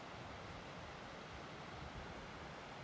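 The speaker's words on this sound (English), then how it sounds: "I can hear the falls already" Waterfall on Dyson Creek, heard on a Rockies day hike up Green Mountain: a steady, broadband rushing roar, faint and distant, with no voices.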